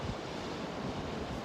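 Ocean waves wash onto a California beach in a steady, soft roar of surf, with wind rumbling across the microphone throughout.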